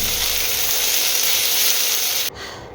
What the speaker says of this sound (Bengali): সবজিগুলো সব অ্যাড করে দিয়েছি, নুন হলুদ দিয়ে একটুখানি ফ্রাই করে ঢেকে দেবো